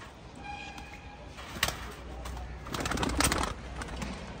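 Punjab Malwai pigeons coo softly in a quiet outdoor setting, with faint low coos and a couple of brief louder rustles or flaps near the middle and end.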